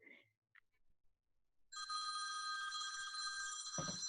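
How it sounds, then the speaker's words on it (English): A telephone ringer goes off during a podcast conversation, a steady electronic ring starting after a quiet pause and continuing loudly, with a brief thump near the end. "I forgot to turn down my ringer"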